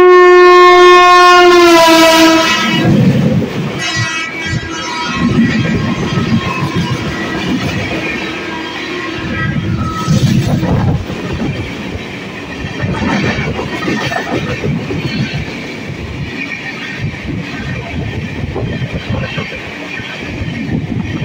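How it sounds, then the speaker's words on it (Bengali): The Chambal Express from Gwalior to Howrah rolls past at Bardhaman Junction, a horn sounding at the start before a loud, continuous rumble and clatter of wheels and cars, close and sustained, with no talk. "এখন আমাদের আমাদের সাথে দেখা হবে ট্রেন নাম্বার 121 গোয়ালিয়র জংশন থেকে হাওড়া জংশন চম্বল এক্সপ্রেস"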